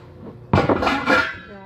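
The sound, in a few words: pots and dishes clattering while washing up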